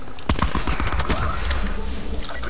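Gunfire and grenade blasts in the video game Black Ops 4, a dense, loud run of shots and bursts that holds steady for a couple of seconds with little pause.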